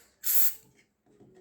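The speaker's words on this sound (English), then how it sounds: "use any perfume and spray it" One short burst of perfume sprayed onto the volume knobs of an audio device, a sharp close hiss lasting about a third of a second, followed by faint handling noise.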